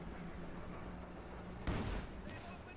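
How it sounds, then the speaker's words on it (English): Rocket artillery fire in a Company of Heroes 2 match, a sudden loud burst of whooshing impacts about two-thirds through, over a steady low rumble of battle noise. "But Elpern responds with rocket artillery"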